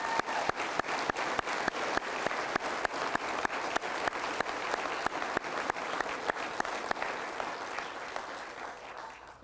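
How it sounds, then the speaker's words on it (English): A ceremony audience at a fire department pinning event applauds the newly pinned firefighters: a broad wash of clapping with a few sharp, regularly spaced claps standing out, tapering slightly near the end. "Let's give everyone who's been pinned another round of applause."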